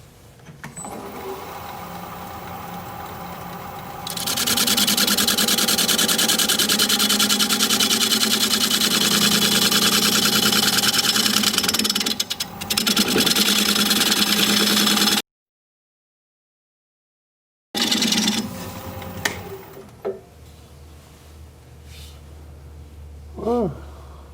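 Sassafras spinning on a wood lathe and cut with a freshly sharpened gouge, a loud steady motor whir with a hissing cutting noise, then a brief silence before the lathe restarts and winds down.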